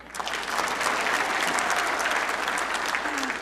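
Audience applause at a comedy show, a steady, dense wash of many hands clapping close up that fills the whole stretch without pause.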